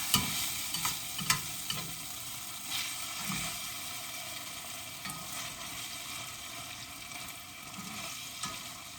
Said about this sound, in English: I'm going to stir this around and get it all like it needs to be.